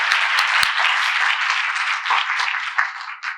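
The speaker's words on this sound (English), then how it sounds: "give yourselves another round of applause" A live podcast audience at a discussion event gives a round of applause. The crowd clapping is bright and steady throughout, with a few louder individual claps near the end.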